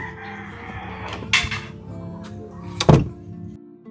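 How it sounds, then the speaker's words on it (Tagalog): A door is pulled shut with a solid, close thunk, preceded by a lighter knock, over a steady hum of background noise. "Sara mo yung pinto"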